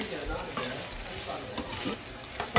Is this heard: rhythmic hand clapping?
no